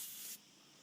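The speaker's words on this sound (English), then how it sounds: "use some compressed air to dry it off" A short loud blast of compressed air hisses against a Ruger 10/22 bolt during gun cleaning and cuts off abruptly, leaving faint hiss behind.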